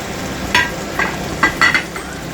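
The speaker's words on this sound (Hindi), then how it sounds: "हल्के हाथ से जो चमचा है वो चलाएंगे ताकि हमारे जो पोटैटो वो खराब ना हो।" A spoon gently stirs eggplant and potato finger chips frying in a pan, giving four or five light metallic scrapes and clinks over a soft, steady sizzle.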